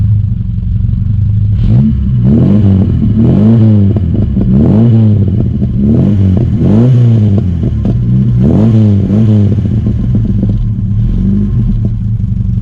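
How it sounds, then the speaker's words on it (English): A classic Ford engine with a Sportex exhaust manifold is fired up, then revved repeatedly in a series of throaty rises and falls, loud and close, with a steady idle rumble between the blips. "I'll fire it up and let you hear it because it sounds so good."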